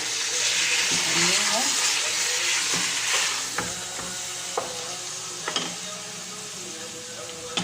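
A whole chicken sizzles in a pot over the flame while cooking Saudi kabsa, a steady crackling hiss with occasional sharp pops and utensil clinks as someone talks over it.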